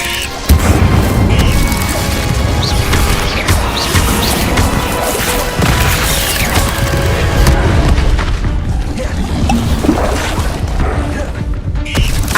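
Incendio fire spell from Hogwarts Legacy on PS5, a loud continuous roar of bursting flames and crashing impacts filling the whole stretch with no pause.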